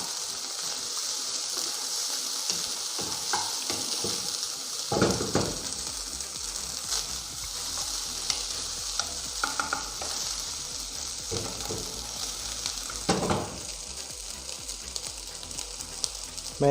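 Korean-style egg fried rice with soy sauce crackles and hisses in a pan for a long, steady stretch. Repeated clattering scrapes of stirring cut through now and then.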